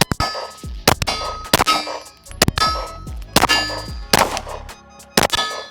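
Rapid Glock pistol shots pinging a steel target, each impact ringing with a bright metallic clang, a string of about a dozen hits in quick irregular bursts, loud and close with no talking.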